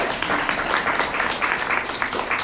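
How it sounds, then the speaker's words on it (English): An audience at a healthcare panel claps in a dense, steady patter of many hands, moderately close and sustained for the few seconds without a break. "Yeah, you can clap for him."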